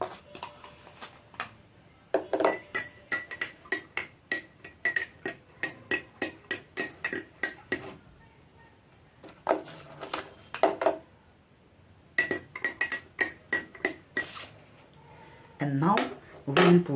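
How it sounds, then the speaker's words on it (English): A metal spoon clinks repeatedly against a glass of tap water while stirring in salt, producing rapid bursts of bright tapping in several runs with short pauses between them, close and clear, with a voice speaking briefly near the end. "we will put a spoon of salt in this glass"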